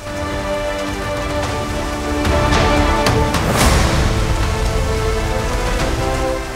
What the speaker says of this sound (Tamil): வடகிழக்கு பருவமழை காரணமாக தமிழகத்தில் பல்வேறு பகுதிகளில் பெய்த மழையால் சாலைகளில் மழைநீர்